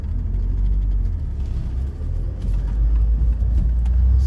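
A Fiat X1/9 sports car engine runs steadily up close, a loud, even low rumble that swells a little toward the end.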